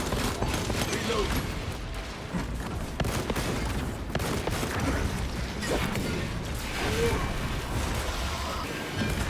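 Weapon reloading in a Warhammer 40K video game: mechanical clacks and clicks sit within a dense, loud wash of combat noise and gunfire.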